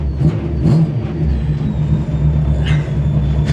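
A home-built Micrabusa car is driven for the first time, its engine putting out a loud, steady low rumble and drone close up, with faint whining tones and small surges in revs; no one speaks.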